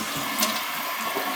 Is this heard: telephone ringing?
no